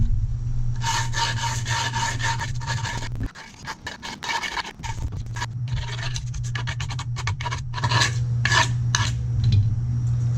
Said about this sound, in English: just start to rough up the edges like this